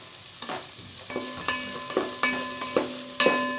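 Potato and carrot pieces frying with onions in oil for vegetable biryani, a steady sizzle broken by several sharp stirring scrapes of a spoon against the pan, close and fairly loud with no talking.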